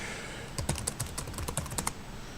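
A computer keyboard is tapped in a quick burst of light keystrokes for a login, quiet and close in a calm room, with a few firmer clicks among them.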